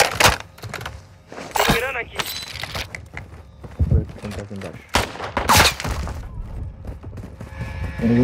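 Gunfire in a battle royale video game, sharp scattered shots and short bursts cracking at varying distances, mixed with thuds and breaking sounds while players talk over it.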